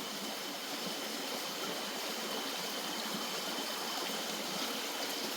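Steady, continuous flow of a stream running deep through tall trees in a forest at night on a cold winter evening, even and unbroken throughout with no voices.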